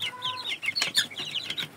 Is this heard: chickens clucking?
yes